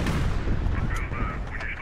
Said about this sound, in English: let's use a missile on this guy